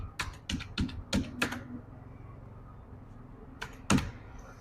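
Keys clack on a computer keyboard as a date of birth is entered into an online form: a quick run of about six sharp taps, a pause, then two more close, crisp strokes, with no voice.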